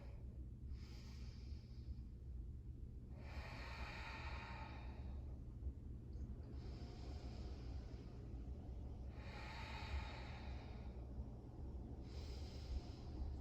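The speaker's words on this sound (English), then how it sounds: "Let's take 3 more breaths right here." Slow, deep breaths during a yoga forward fold, five airy inhale and exhale swells at an even pace over a steady low background hum.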